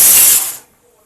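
A pressure cooker cooking rice vents steam through its whistle: a loud, close hiss lasts about half a second and then cuts off into near silence.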